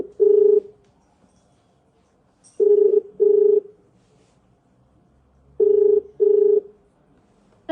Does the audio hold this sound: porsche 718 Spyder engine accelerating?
no